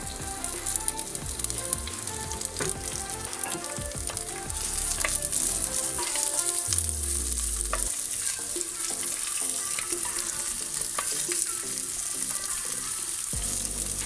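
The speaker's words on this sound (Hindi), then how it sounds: "अब मैं डालता हूँ ऑनियन, प्याज और ग्रीन चिल्ली, हरी मिर्च।" Chopped onion and green chilli fry in hot oil for a Goan pomfret fish curry, giving a steady, close sizzle with scattered stirring scrapes and crackles throughout.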